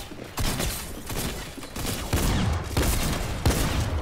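Rapid bursts of gunfire from a multiplayer shooter game, loud and close, with repeated volleys and sharp onsets across the whole stretch.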